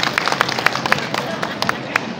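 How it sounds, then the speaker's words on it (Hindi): Scattered hand claps from an audience at a ward-issues meeting in Padampur, sharp and uneven, rising over a murmuring room. "अरे ताली।"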